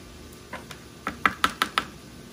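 Small kitchen knife slicing sweet peppers on a board, a handful of sharp chopping knocks that speed into a quick run of five evenly spaced cuts, close and clear with no talk.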